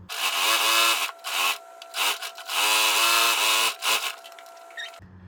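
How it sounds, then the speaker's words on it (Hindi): A sewing machine stitches kurti fabric in close, loud bursts of rapid mechanical whirring, several runs of varying length separated by short pauses, ending with a click. "तो चलिए इसमें मैं पूरे में एक सिलाई लगा लेती हूँ।"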